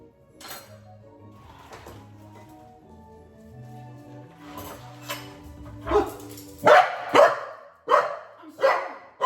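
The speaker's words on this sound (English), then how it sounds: "You don't have to bark at me just because I made a noise" A dog barks repeatedly in a home kitchen during dinner cooking, several loud, close barks in a quick series toward the end, following quieter clattering of dishes and pans.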